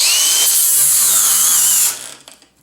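Ryobi 18V brushless angle grinder grinding under heavy load, a loud high whine whose pitch sags as the motor bogs toward a stall, then cuts out abruptly and winds down near the end.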